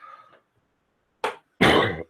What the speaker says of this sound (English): you can probably hear I'm still dealing with a cough